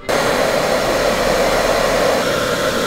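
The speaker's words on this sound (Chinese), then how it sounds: "我们来试试看吹风机帮它轰一轰" A hair dryer clicks on abruptly and blows steadily and loudly on the bent wing part of a miniature model kit figure, a constant whooshing roar with no talking.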